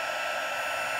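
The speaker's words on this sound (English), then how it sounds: "you can take your powder and melt it with the heat gun" A heat gun blows a steady, loud, airy hiss while melting embossing powder for handmade cards, a constant close whoosh with no breaks and no talking.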